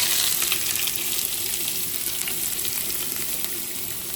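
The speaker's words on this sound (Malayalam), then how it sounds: "നമ്മുടെ എണ്ണ നല്ല രീതിയിൽ ചൂടായി വന്നതിന് ശേഷം നമുക്ക് ഈ സവാള ഇട്ട് കൊടുക്കാം" Sliced onions dropped into hot oil for a chicken samosa filling, giving a loud, dense, continuous sizzle and crackle that holds steady throughout, close up and without talk.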